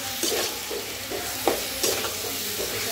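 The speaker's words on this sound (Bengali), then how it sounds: "সবটা ফ্রাই করে নিব পেঁয়াজের সাথে" Rice with onions and chicken frying in a hot pan, a continuous sizzle broken by several short scraping stirs at uneven intervals, close and fairly loud with no voices.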